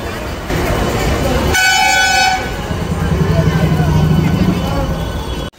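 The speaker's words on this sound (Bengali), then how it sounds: "ট্রেন ডিপার্চার করছে" A loud train horn blasts for about a second, then a departing local train on the Krishnanagar–Amghata line rumbles and clatters steadily nearby, with people's voices mixed in.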